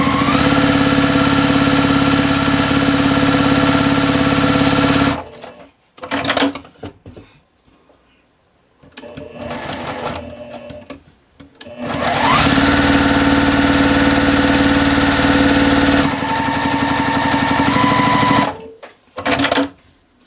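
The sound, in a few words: sewing machine sewing quilt block seams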